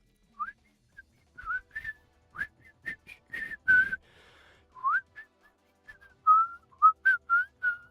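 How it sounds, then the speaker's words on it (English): A person whistles a short melodic tune, bright and clear, in quick phrases with brief pauses between notes. "Like, whistling like this."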